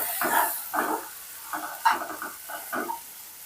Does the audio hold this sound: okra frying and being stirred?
yes